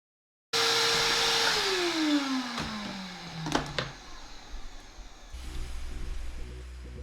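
A vacuum cleaner switches on abruptly and runs over a sanded wooden tray, its motor pitch gradually dropping as it works, with clicks and bumps before the sound changes near the end.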